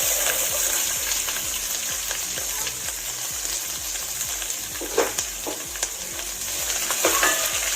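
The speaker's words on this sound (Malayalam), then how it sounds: "എന്നിട്ട് അതിലേക്ക് നമ്മളൊരു 3 സവാള ചെറുതായിട്ട് അരിഞ്ഞെടുത്തിട്ടുണ്ട്," Three chopped onions frying in hot oil with mustard seeds and curry leaves for a pork vindaloo, a loud, continuous crackling sizzle with light stirring scrapes throughout, no voices.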